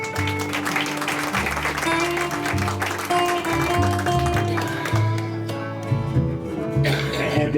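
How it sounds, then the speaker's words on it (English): An audience at a live country radio show claps along while a band plays with dobro, the hand claps mixed under loud sustained music throughout. "Everybody clap."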